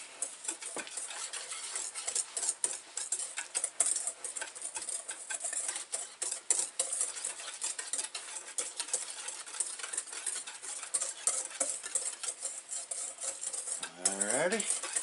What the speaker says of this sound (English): Now, it's a whisk, and I'm going to mix it into my liquid here a little bit.